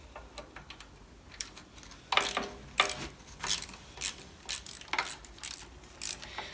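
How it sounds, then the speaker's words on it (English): Bolts being undone on the gearbox of a 1962 Bolens 600 tractor with a ratchet, a series of close, sharp clicking bursts in an uneven rhythm, growing more frequent after the first couple of seconds. "So now we're going to be undoing these 4 bolts to get the toolbox and the seat stand off."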